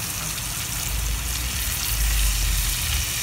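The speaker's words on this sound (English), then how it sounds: "we're gonna flip our scallops over here" Scallops sizzle steadily in a hot pan alongside ginger and garlic browning, a continuous close frying hiss with soft crackle throughout, no voices.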